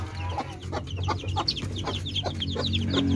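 Asil chickens, including hens, clucking in short repeated bursts, several birds close by, with a low steady hum underneath.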